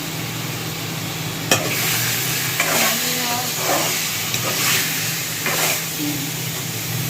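Spice masala frying in oil with a constant close sizzle, punctuated by a handful of scraping stirs and light spatula knocks against the pan, alone with no talking.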